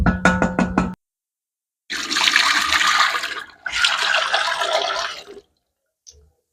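Boiled lentils poured into a pot of mutton curry, a thick wet splashing and sloshing lasting a few seconds in two bursts, preceded by a few sharp knocks of a utensil against the pot.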